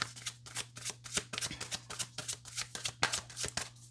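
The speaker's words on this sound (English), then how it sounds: "I'm going to cut the deck." A tarot card deck is shuffled and cut close by, with quick crisp riffles and flicks in a rapid, uneven rhythm and no voice over them.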